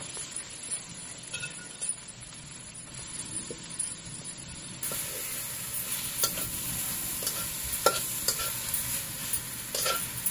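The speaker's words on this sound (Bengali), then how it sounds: "সজিনার শাকগুলো দিয়ে নিচ্ছি। এখন ভালো করে নাড়তে হবে খুন্তির সাহায্যে।" A spatula stirs drumstick leaves into browned fried onions with salt in a pan, making repeated scraping strokes over a soft sizzle that grows louder and denser about halfway through.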